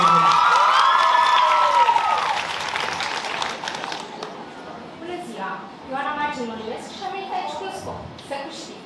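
Applause and cheering from a high school freshman ball audience in Hârlău as a performer is welcomed onstage, loud at first under a singing voice, then continuing with scattered whoops and shouts.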